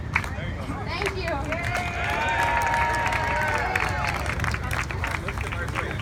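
A crowd claps along at a climate rally outside the US Supreme Court, with steady scattered clapping and crowd babble outdoors while a voice sings over it.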